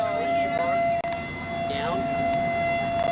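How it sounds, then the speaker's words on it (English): Tornado sirens wail in Joplin, a steady civil defense tone sounding outdoors, loud and continuous, with a faint rising second siren and a brief cut in the middle. "Tornado sirens. We come out of graduation and there's a tornado."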